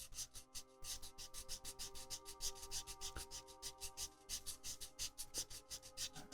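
A sanding stick works over a 1/24 scale Airfix Spitfire Mk Ia plastic model, giving a steady run of close, rhythmic rasping strokes, about five or six per second, with no talking.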